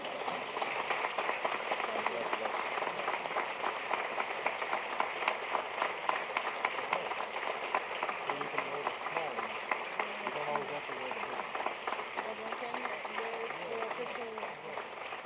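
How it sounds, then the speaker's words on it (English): A formal state dinner honoring German Chancellor Merkel fills with sustained, dense audience applause, steady and even throughout, with a voice faintly mixed in. "You can all applaud."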